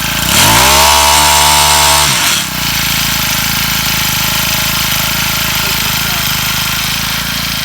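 A Kreber vibrating screed's small petrol engine runs loud and close, first with a strong steady hum for about two seconds, then settling into a continuous rough, buzzing idle that carries on to the end.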